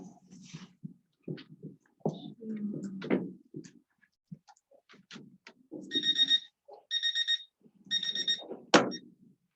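A timer alarm goes off with three short bursts of rapid high beeping during a classroom-style session, following murmured talk and quiet activity; people talk softly in between.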